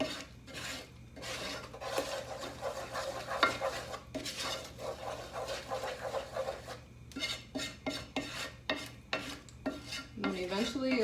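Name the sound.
stirring homemade playdough mixture with blue food colouring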